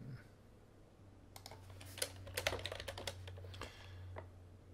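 Quick bursts of clicking keystrokes on a computer keyboard, close and fairly quiet over a low steady hum, clustered into a short run of typing.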